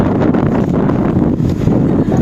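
Strong, steady wind roars and buffets the microphone in cold, snowy weather in Rinku Town, Osaka, Japan, a continuous loud rumbling rush with no pauses.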